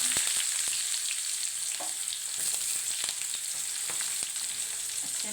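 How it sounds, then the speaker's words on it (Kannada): Chopped onions frying in hot oil over slow-medium heat for Uttar Karnataka uppitu, a steady close sizzle with occasional light pops and crackles running throughout, no talking. "ಎಣ್ಣೆ ಕಾಯಿದೆ, ಈರುಳ್ಳಿ ಹಾಕ್ತಾಯಿದ್ದೀನಿ."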